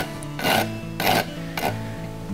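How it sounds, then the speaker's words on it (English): A farrier's rasp files beneath a horseshoe nail on a hoof to remove the burr. Three short, rough scraping strokes are evenly spaced and close, with no talk over them. "I'm going to rasp underneath the horseshoe nail, just taking the burr off."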